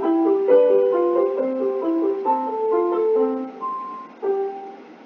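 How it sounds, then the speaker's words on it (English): Piano arpeggios rippling through broken chords in a Mozart sonata style, a clear, moderately soft flowing passage without talking. "And now I bring in the arpeggios and it sounds like this."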